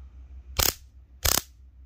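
A VIPERTEK VTS-989 heavy-duty stun gun fires two short, loud crackling electric bursts close up, separated by a brief pause, with no talk.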